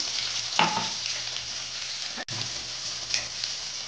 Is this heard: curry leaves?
yes